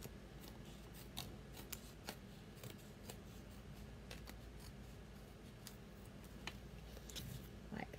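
Scissors snip through leftover designer paper scraps for card making, a string of sharp, close cuts at uneven intervals over a steady low background hum.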